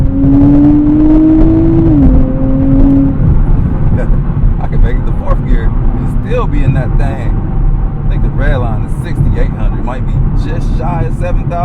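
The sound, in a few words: 2024 Nissan Z Nismo accelerating through gears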